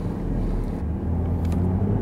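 A Porsche 911 GT3 RS engine drones low and steady from inside the car while driving, with road and wind rumble underneath, a continuous hum without revving.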